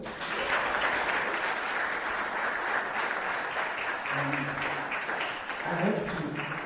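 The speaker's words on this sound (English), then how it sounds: "A round of applause." An audience at a film festival applauds, with sustained, dense clapping that stays loud and steady throughout.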